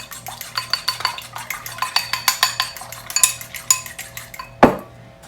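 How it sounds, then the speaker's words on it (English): Two eggs are whisked briskly in a bowl, the whisk clinking against the sides in a fast, steady rhythm of sharp taps, ending with a louder knock, close and alone. "I'm going to go ahead and whisk the eggs"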